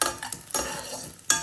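Almonds frying in a pan, stirred with a utensil: a soft sizzle under a few distinct scraping and clinking strokes, close by.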